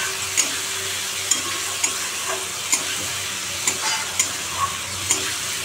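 Spice masala is stirred in hot oil in a pan for a methi greens and potato curry, giving a steady loud sizzle with regular spatula scrapes and taps about once a second.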